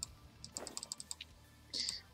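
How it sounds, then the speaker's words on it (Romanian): Rapid computer keyboard typing and mouse clicking during a game, a quick close run of about a dozen sharp taps followed by a louder brief burst, fairly faint overall with little talk. "Câteodată dau click așa de rapid, nici nu îmi dau seama."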